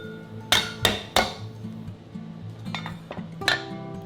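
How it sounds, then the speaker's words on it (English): Lemongrass stalks smashed on a board while preparing Malaysian curry beef brisket, giving three sharp close thumps in quick succession, then a pause and a few softer knocks, with faint clinking between. "Now smash the lemongrass."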